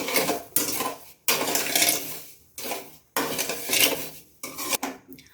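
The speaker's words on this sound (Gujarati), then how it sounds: "હવે તેને આ રીતે મિક્સ કરી લઈશું" Repeated scraping strokes of a spoon stirring sugar and water into syrup in a metal pot, loud and close, in rhythmic bursts with short pauses.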